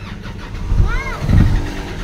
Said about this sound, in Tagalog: Yan, so engine start.